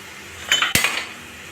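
Metal spoon clinks and scrapes against a pot while salt is stirred into Andhra-style chicken pickle, a few short close clattering strikes with one sharper knock, no talking.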